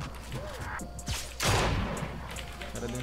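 A gunshot sounds during a battle royale video game, a sharp burst about midway followed by a broad noisy tail, set among game effects and mechanical clicks.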